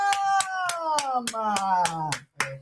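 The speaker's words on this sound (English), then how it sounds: "what is that noise? Oh, that is our clap." A rhythmic group clap: sharp hand claps land at a steady pulse about every third of a second, under a sustained sung or chanted voice, fairly close and moderately loud.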